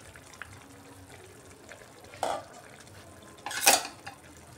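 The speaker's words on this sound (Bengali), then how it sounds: "মধ্যখানে একবার ঢাকাটা উঠিয়ে নিচ্ছি আমি।" A metal lid is lifted off a pot of simmering ash gourd curry, giving two sharp clanks of metal against metal over a quiet kitchen background, the second louder and ringing briefly.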